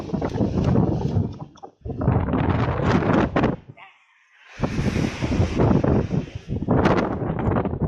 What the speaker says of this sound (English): it's nice windy breeze at the moment